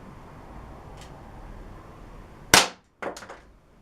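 A Crosman C41 CO2 air pistol fires test shots from a bag rest at 15 feet on a fresh CO2 tank: one sharp, loud crack, then after a short pause a second quicker pop with a brief rattling tail, all in a quiet room.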